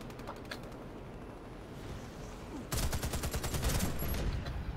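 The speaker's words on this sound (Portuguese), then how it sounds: "Olha onde eu tô aqui atirando nele" Rapid bursts of gunfire in the shooter video game Warface, scattered and distant at first, then a loud, dense fusillade of repeated shots crowding the second half.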